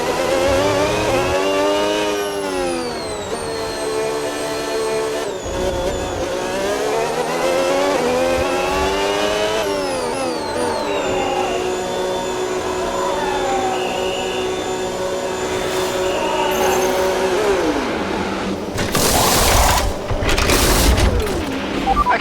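An F1 race car in a video game career mode at the Hungary round, its high-pitched engine rising and falling through gear changes as it slows for the pit lane, then sharp loud bursts near the end like wheel guns during the stop.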